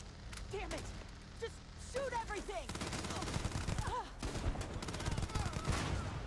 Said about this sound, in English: look at this gun melting everything in sight